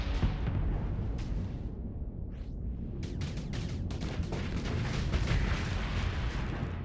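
Rumbling explosions and crackling bursts as a ship blows apart in the space combat game Starsector, a dense, continuous roar with sharp pops and blasts stacking up near the end, no talking.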